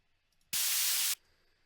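A single burst of harsh white noise hisses for about half a second, starting and stopping abruptly against near silence.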